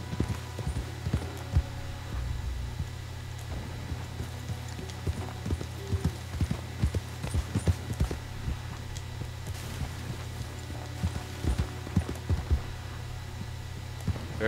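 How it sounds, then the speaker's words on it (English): Horse hooves clip-clop in a steady walking rhythm in the video game Red Dead Redemption 2, over a low constant hum, with faint patter in the background. "There's the horse."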